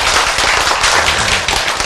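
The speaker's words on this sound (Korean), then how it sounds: "감사하면 박수 한번 쳐줘" An audience in a Korean lecture hall breaks into brief, dense applause. Many hands clap loudly and evenly for about two seconds with no talking.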